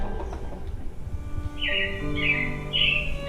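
Animatronic robins chirping on a Disney Magic Kingdom ride, with three bright whistled chirps over steady ride music and a background hum, fairly loud and close.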